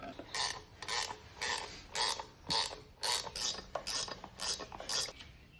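A ratchet tightens bolts on a MerCruiser Alpha One Gen 1 water pump housing, giving about a dozen quick metallic clicking bursts in a steady rhythm, close and fairly quiet, with no speech.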